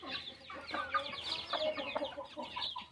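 Backyard chickens clucking steadily, several birds overlapping in a busy, continuous chatter at close range, with no voices present.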